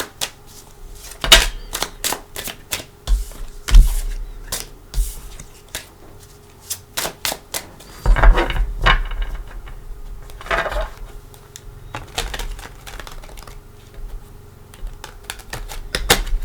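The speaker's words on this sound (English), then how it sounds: "let's give it a couple shuffles" Rapid riffling and soft slapping of tarot cards being shuffled several times, crisp bursts close by with short pauses and no talking.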